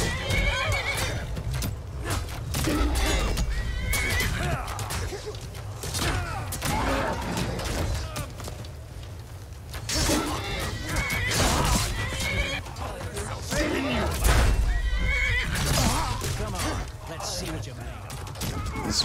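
Horses whinny repeatedly over a steady clatter of hooves and busy game noise in Skyrim, with several loud neighs breaking through.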